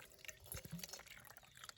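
Muddy water trickles and drips steadily through a cotton filter, a soft continuous close patter with small bright drops.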